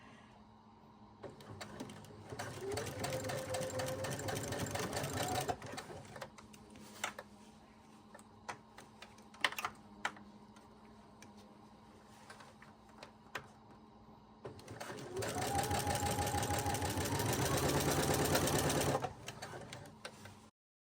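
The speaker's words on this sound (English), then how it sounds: "sewing without pulling it too much, but helping it along at the same time" A sewing machine runs in two long bursts while it stitches elastic into the waistband of wide leg pants. Its fast, even whirring is close and loud, and quieter clicks and fabric handling fill the pause between the bursts.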